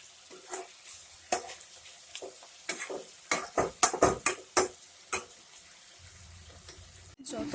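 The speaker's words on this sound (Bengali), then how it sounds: "মাংসটাকে আমরা ভালো করে ভাজবো" Chicken pieces frying in a pan for a green chilli chicken curry, with a spatula stirring and scraping through the sizzle in a series of sharp clattering bursts, close and moderately loud, with no talk.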